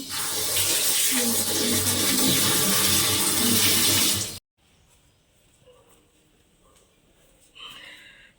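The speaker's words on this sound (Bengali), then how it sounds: "ধুয়ে নিই" Water pours loudly and steadily from a tap as a snake gourd is washed, then cuts off abruptly, leaving quiet handling noises.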